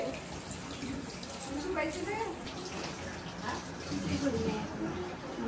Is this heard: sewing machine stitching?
no